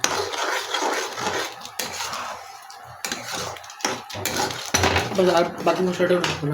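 Maggi noodles are stirred in a pot with a metal spoon, giving clattering scrapes and clinks against the pan in bursts, close by, while people talk over and between the sounds.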